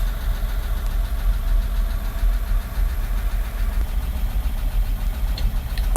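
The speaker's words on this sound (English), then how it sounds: "the engine's just at about running temperature now" A 1953 Chevy truck engine runs with the choke in at about operating temperature, a loud, steady, close idle with a rough rhythmic knock throughout.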